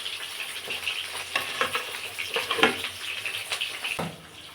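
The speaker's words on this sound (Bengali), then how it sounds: "মাছগুলো ভেজে নিচ্ছি" Shankar fish (stingray) pieces fry in hot oil with a crackling, bubbly sizzle and occasional clatter of utensils, close up and fairly even, with no one speaking.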